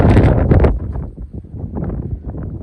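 Strong gusting wind on a farm in Gujarat buffets the microphone, loudest in the first moment, then a lower rushing roar continues.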